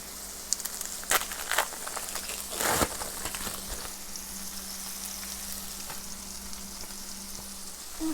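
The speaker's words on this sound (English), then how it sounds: "my skillet's popping pretty bad" Smashed burger patties sizzle and pop in a hot skillet, a steady close frying hiss broken by sharp crackling pops, with a louder burst near the middle and no talking.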